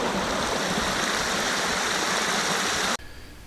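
A large volume of water rushes down a riprap ditch into a culvert pipe, a steady broadband roar close to the microphone that cuts off abruptly near the end, leaving a quieter flowing hiss.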